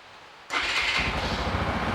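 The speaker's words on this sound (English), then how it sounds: "Now I'm going to have to start the bike to turn the lights on." A 2020 Keeway RKF 125 motorcycle engine cranks and catches after a short quiet moment, then settles into a close, steady putter of idle.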